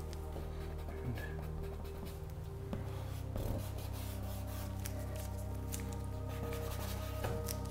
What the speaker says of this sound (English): bring out those highlights again with the kneaded eraser